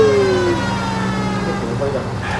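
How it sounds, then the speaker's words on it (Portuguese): A wailing electronic police siren in the video game L.A. Noire sweeps steadily, loud and close, with engine hum underneath. "Vou ligar a sirene, mano."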